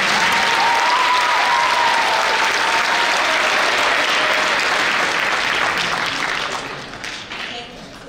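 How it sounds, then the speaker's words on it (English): A school auditorium audience applauds a large sixth grade orchestra at a winter concert. The clapping is loud and dense, and cheers and voices rise through it before it fades toward the end. "One more round of applause for this giant sixth grade orchestra."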